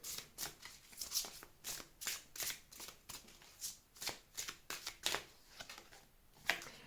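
Tarot cards shuffled and flicked onto a table in quick, crisp riffling bursts, close and fairly soft, repeating in an uneven rhythm with no talking.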